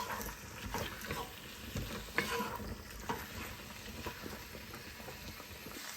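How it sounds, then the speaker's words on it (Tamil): Chicken with turmeric and onion sautéing in a pan, a steady soft sizzle with stirring scrapes and small clacks throughout, fairly quiet. "இந்த சிக்கன் மஞ்சள் வெங்காயம் எல்லாம் சேர்த்து ஒரு வாட்டி நல்லா வதக்கி விடணும்"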